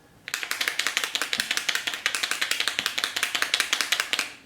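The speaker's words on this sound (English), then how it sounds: "You can hear that little marble in there that helps mix up the ink" Small marble rattling inside a shaken tattoo ink bottle: a fast, even train of crisp clicks, close and loud, running steadily for several seconds with no talk.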